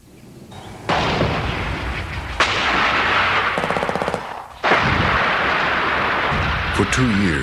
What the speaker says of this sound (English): The shelling of the besieged city